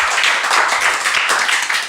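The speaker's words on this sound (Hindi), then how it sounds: "तालियां जिज्ञासा के लिए।" Group clapping for a child named Jijnasa during a session on children's qualities, a steady dense patter of many hands across the whole stretch with no talk over it.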